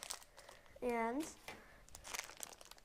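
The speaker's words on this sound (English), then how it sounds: "open up the bubblegum pack" A bubblegum pack is torn and crinkled open, with a short burst of crackly plastic crinkling and soft rustles close up while a person speaks briefly.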